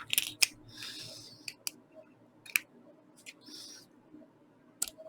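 Scissors snip fly-tying thread at a rotary vise while tying a Green Machine fly, giving several sharp, close clicks and short cutting sounds spread across a quiet room.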